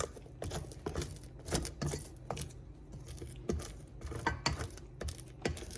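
An electric mixer beats a homemade marshmallow mixture in a bowl, making a quiet, repetitive clatter of rhythmic clicks and taps that continues throughout.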